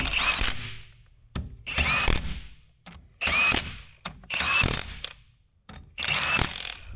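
A power tool runs in five short, loud bursts with brief gaps as a Dana 60 ring gear is bolted up in a shop, the whirring ratchet-like revving stopping and starting in a steady rhythm.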